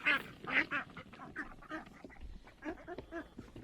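Ducks quacking eagerly while feeding, a flurry of overlapping raspy quacks and honk-like calls in quick succession, close up and fairly faint overall.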